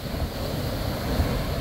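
Rough ocean waves on a beach make a continuous close roar with wind buffeting the microphone, steady and loud with small surges and no voices.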